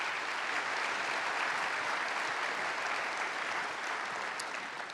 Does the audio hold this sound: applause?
yes